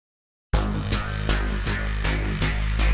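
After a short silence a synth tone enters and pulses in a steady, tempo-locked throb from multiple beat-synced LFOs, swelling rhythmically about every half second, loud and sustained.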